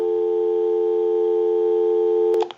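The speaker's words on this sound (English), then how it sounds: "We'll call my number and it'll be busy." A steady, loud telephone busy signal heard through a Western Electric Princess telephone handset holds for over two seconds, then cuts off with a short click.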